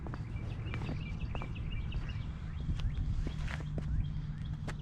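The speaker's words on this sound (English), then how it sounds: "Those birds sound really nice though." Birds sing outdoors near a bridge and a brick memorial in Warren, Ohio, in winter, with scattered short chirps and whistles over a steady low rumble and faint footsteps.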